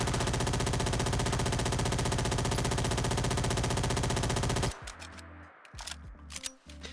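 Sustained automatic gunfire from a Skorpion submachine gun in a modded Fallout 4, a dense rapid stream of shots for several seconds that cuts off abruptly into quieter scattered game noise and echoes.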